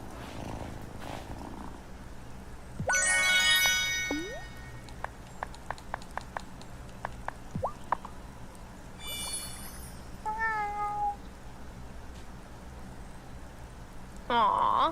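A cat in the video game Wylde Flowers purrs and gives several drawn-out meows, with scattered soft game effect tones between them, fairly close and loud.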